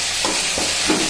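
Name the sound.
tomato added to sizzling frying pan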